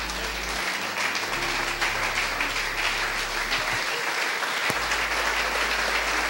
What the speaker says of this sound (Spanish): ¿Cuántos aplauden en nombre del Eterno?